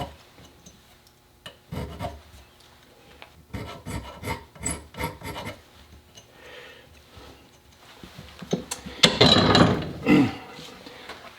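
Hand filing a burr off the extractor of a Stevens Favorite rifle, a close metal rasping that comes in short scattered strokes, then a louder, steadier run of rasping near the end, with no talk.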